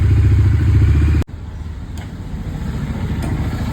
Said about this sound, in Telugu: ఇంజన్ అయితే స్టార్ట్ చేసి ఒక టెన్ మినిట్స్ ఐడీలు అయితే ఉంచాలి